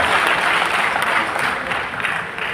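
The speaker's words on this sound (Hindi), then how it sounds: "अपने सम्मान में तालियां जरूर बजा लीजिएगा" Dense, steady applause from the audience at an Urdu mushaira in Hubli, a continuous wash of many hands clapping at full strength for the whole stretch.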